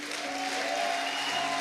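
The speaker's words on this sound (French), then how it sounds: "Si on peut encore les applaudir." A crowd at a youth camp gathering claps for its graduates, dense and sustained applause from many hands filling the room at a steady level, with a faint tonal hum running underneath.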